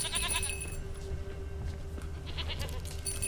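A goat in The Witcher 3 video game bleats in a few short, wavering calls over a steady layer of game ambience and music, with no speech.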